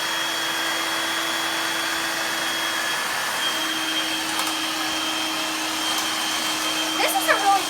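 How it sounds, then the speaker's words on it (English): A Dirt Devil stick vacuum cleaner runs with a steady, fairly quiet whirring hum and airy hiss, holding one even pitch throughout with faint bumps near the end. "This is a really quiet vacuum."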